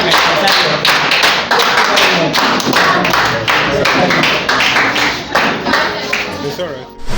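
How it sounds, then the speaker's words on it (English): An audience at an HIV/AIDS seminar claps in a dense, sustained round of applause that fades toward the end. Voices are heard talking under the clapping. "Please, let us clap for them very well"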